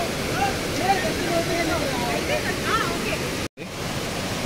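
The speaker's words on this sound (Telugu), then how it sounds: "మంచి వాటర్ ఫాల్ వస్తుంది," Waterfall on the monsoon trek to Kalu Waterfall in Malshej Ghat, Maharashtra, roaring as a loud, steady, broadband rush of falling water that fills the scene, cut by a brief dropout near the end.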